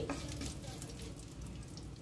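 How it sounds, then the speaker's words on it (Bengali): Panch phoron five-spice and other whole spices frying in oil, giving a faint, even sizzle that holds steady for two seconds with slight stirring movement. "দিয়ে ভালোভাবে তেলে সব মশলাগুলো ভেজে নিচ্ছি।"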